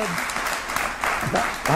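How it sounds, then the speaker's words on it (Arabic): Studio audience applauding during an Arabic television talk show, a dense steady clatter of many hands clapping together with voices talking over it. "صفقوا له صفقوا له صفقوا"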